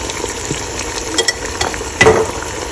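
Chicken with ginger garlic paste fries in a pan for Lahori chicken curry, a close, steady sizzle broken by a few spoon scrapes and stirring knocks, the loudest clatter near the end.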